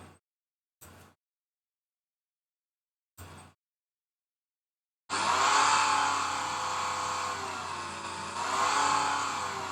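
A car engine idles roughly at about 1250 RPM with the check engine light on, heard through an Electude simulator. Several short clicks come first after silence. Then a loud, steady engine drone fades in and swells slightly near the end.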